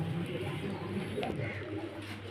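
Pigeons at a loft in Beldanga, including a good-quality hen, give low, soft coos over a steady background murmur, close by and continuous throughout.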